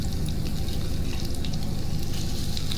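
Sesame seeds, coriander seeds, seasoning seeds, garlic and dried red chillies fry in hot oil for a raw mango chutney, giving a steady, close sizzle with fine crackling throughout and no talk.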